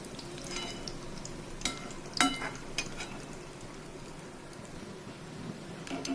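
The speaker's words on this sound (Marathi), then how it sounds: "तळताना मी तुम्हाला शंकरपाळे दाखवते." Shankarpali pastry sizzles in hot ghee with a steady bubbling hiss, interrupted by a few sharp clinks of a utensil stirring in the pan.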